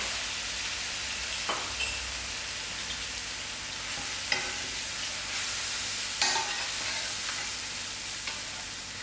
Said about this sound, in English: I'm adding my masala to fry out